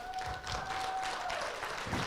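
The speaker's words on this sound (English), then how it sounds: "I want to give a huge applause to you." Scattered, soft applause from a group, fairly distant and brief, with a faint steady tone underneath.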